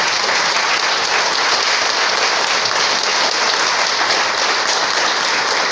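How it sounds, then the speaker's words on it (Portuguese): Church congregation at a Sunday morning service applauding Jesus. The clapping is loud, dense and sustained, a steady wash of many hands at an even level throughout. "Aplauda Jesus com fé."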